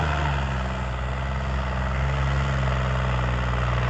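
A Swaraj 855 tractor idles at a playground, a steady low rumbling drone with constant vibration throughout.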